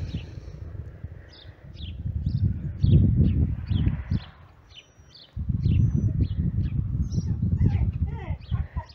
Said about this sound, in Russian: Слышно, как птички поют. Там прямо на крыше.